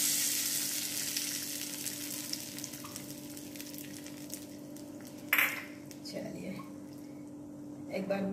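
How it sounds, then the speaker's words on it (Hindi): Hot oil tempering with cumin, mustard seeds and curry leaves sizzles and crackles as it is poured into a dry coconut and raw mango chutney, a close hiss that fades, with a brief clatter of utensils midway. "और अब ये तड़का हम इस चटनी में ऐड कर देंगे।"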